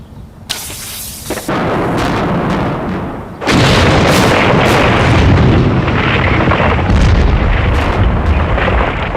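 A huge explosive blast from a building demolition, a short sharp crack followed by a massive sustained roar of collapsing debris that stays loud and dense to the end, heard close.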